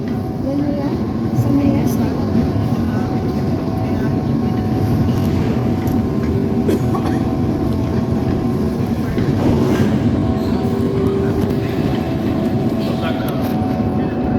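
Airport baggage carousel conveyor running, a loud continuous rumbling and clattering drone with faint rhythmic clicks, people talking over it in a busy hall.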